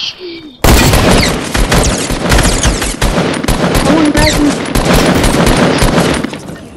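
Rapid bursts of gunfire from the video game Fortnite erupt after a brief quiet opening and keep up as a loud, dense, continuous fusillade of close shots for several seconds.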